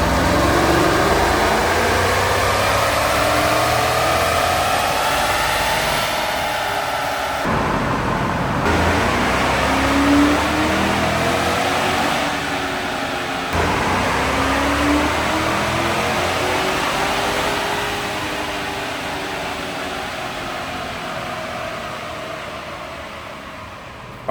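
A 2015 Chevrolet Silverado with the 5.3 liter L83 V8 revs hard on a dyno, its engine pitch sweeping up and falling back in repeated pulls, loud and close, with brief drops between runs.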